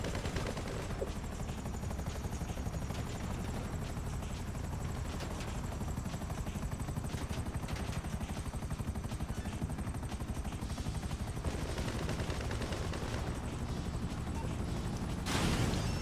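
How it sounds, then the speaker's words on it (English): A video game battle carries a continuous dense roar of helicopter rotors mixed with rapid machine-gun fire, loud and unbroken throughout with no talking. "I can't shoot the choppers because they're not"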